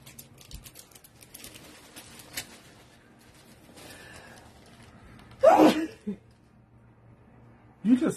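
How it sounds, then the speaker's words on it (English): Quiet rustling and faint activity, then a loud close sneeze followed later by a second sharp burst near the end. "You just sneezed on my peacock shirt."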